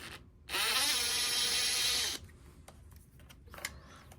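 A power tool whirs steadily for about a second and a half while backing a screw out of an LG washing machine drain pump, followed by faint clicks and small handling noises.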